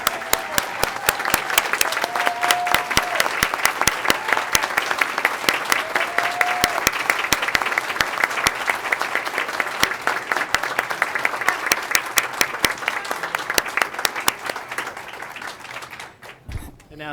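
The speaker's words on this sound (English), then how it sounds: "join me in one last round of applause for these Employee Excellence Award winners" A board meeting audience gives a sustained round of applause for Employee Excellence Award winners, loud dense clapping continuing evenly for about sixteen seconds before tapering off, with faint voices underneath.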